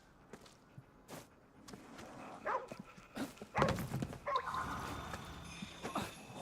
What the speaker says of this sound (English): All the doggos are Shibas.